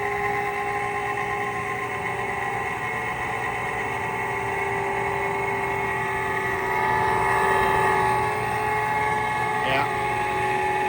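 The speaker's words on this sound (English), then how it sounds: "I don't know if you hear that, but the motor's slowing down." A faulty Trane furnace's inducer motor gives off a steady, close droning hum with sustained tonal whine, shifting slightly near the end as it winds down.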